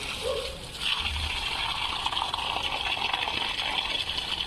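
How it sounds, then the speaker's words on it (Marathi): Garden tap running at full pressure for watering plants: a steady, fairly loud gush of flowing water that holds an even level throughout, with a faint low thump near the start and no talking. "फुल पाणी येतं आहे असं"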